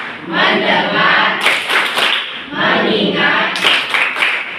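A group of children doing the tepuk fokus clapping game in a classroom, with chanted voices in bursts and rhythmic clapping, loud and close.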